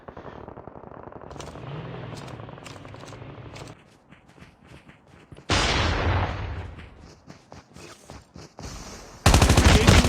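AK-117 assault rifle fire in Call of Duty Mobile Battle Royale, several sharp close-range bursts of rapid shots separated by short pauses, with louder volleys toward the end.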